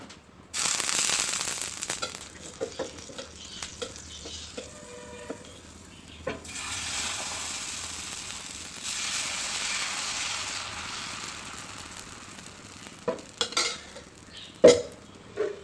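Green gram (pachai payiru) dosa batter being poured and spread on a hot griddle, making a long hissing sizzle with scraping and clinks of utensils at times. The sound rises and falls and ends with a few sharp knocks.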